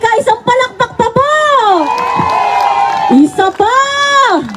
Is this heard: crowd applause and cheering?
yes